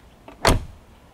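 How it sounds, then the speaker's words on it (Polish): A single solid thunk as the door of a more than 50-year-old Lancia Fulvia Berlina sedan shuts, preceded by a faint softer click, close and alone with no talk. "Widzicie, jak te drzwi się zamykają?"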